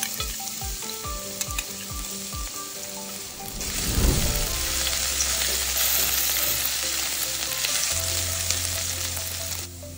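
Cumin seeds, garlic and ginger sizzle and fry steadily in a pan, with a louder burst of sizzling midway as more ingredients go in, then a constant crackling hiss to the end.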